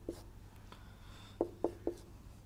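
Pen strokes on paper while working a maths problem by hand, faint and close, with a few soft scratches then three quick sharp marks in a row.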